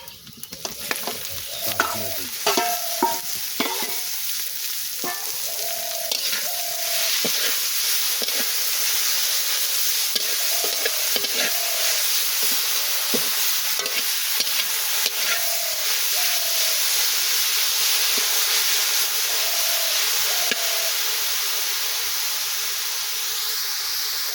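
Leafy greens (shak) frying in a pan give off a continuous hissing sizzle with steam, and a spatula taps and scrapes the pan at irregular intervals for about twenty seconds, close by, with no one speaking.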